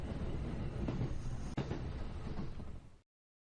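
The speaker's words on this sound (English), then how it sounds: "lulled by the gentle rocking of the train" Steady low rumble of a moving train rocking along in the video game Kikyō Homecoming, with a couple of faint knocks and clunks, continuous and fairly close before cutting off near the end.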